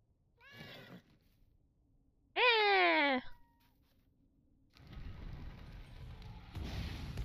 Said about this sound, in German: Alle Katzen schreien.